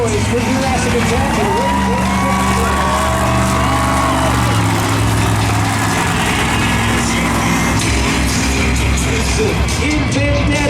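The monster truck Jurassic Attack drives and revs at a live monster truck show in Lamar, Missouri, its loud engine roaring with rising and falling pitch over a constant, dense crowd din.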